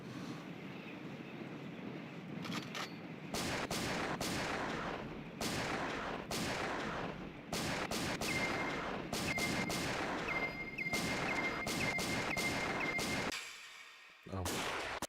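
Repeated bursts of gunfire from an arcade shooting game emulated in MAME, loud and dense, with clusters of shots spread across the clip and a brief gap near the end.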